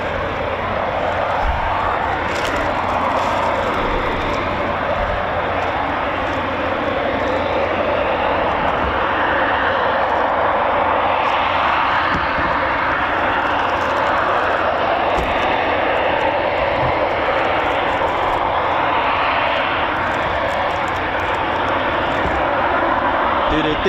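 Eurofighter Typhoon FGR4 jet at RAF Coningsby, a sustained loud broadband engine roar running steadily throughout, with a voice talking over it.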